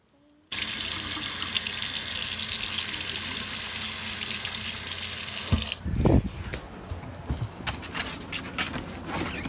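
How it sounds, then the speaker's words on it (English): A bathroom tap runs steadily at full flow to wash paint off, a loud continuous rush that stops abruptly, followed by scattered clinks and small handling noises. "Let me wash off the paint."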